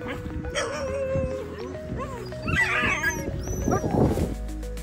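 Dogs yip, bark and whimper while running along a jungle path, the calls fairly close and mixed with rustling movement and some background voices.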